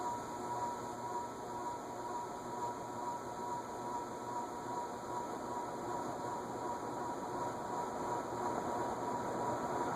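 A J&D Manufacturing CF60 indoor/outdoor agricultural ceiling fan running loudly on a quarter-turn speed setting, a steady dense whooshing roar with a constant motor hum, continuous and close.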